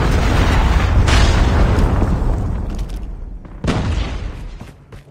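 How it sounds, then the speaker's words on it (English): A predator missile strike in a video game erupts as a loud, sustained booming explosion that rumbles and slowly fades, with a second heavy blast partway through before the sound tails off. "Predator missile inbound."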